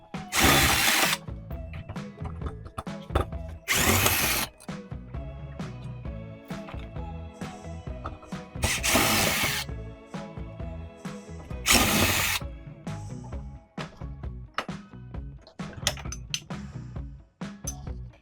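A power drill spins in several short bursts, removing screws from an RV door lock, with ratcheting clicks and mechanical handling sounds between the runs.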